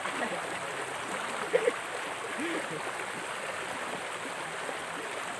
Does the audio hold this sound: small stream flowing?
yes